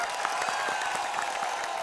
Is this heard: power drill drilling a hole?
no